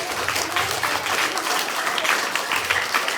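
Pupils at a school assembly get a round of applause, steady dense clapping from a hall full of hands that holds for about three seconds, with scattered children's voices under it.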